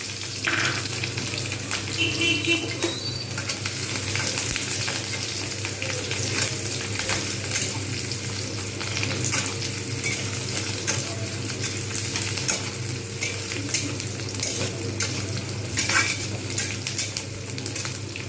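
Onion and green chilli frying in a pan with a continuous loud sizzle, broken by occasional stirring scrapes and utensil clinks.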